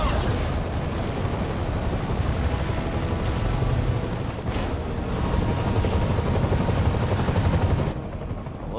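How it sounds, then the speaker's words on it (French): Helicopter in the Marvel's Spider-Man PS4 game, a loud continuous rotor roar that fills the whole stretch, joined by a steady high whine and low rumbling impacts, with no talk over it. "Un hélicoptère."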